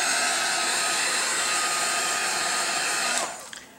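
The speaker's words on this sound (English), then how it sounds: "Now I'm going to dry this carefully because I don't want to reactivate the UT." A handheld dryer blows over a mixed-media art journal page in a steady close whoosh that holds evenly for about three seconds, then cuts off and winds down, with no speech.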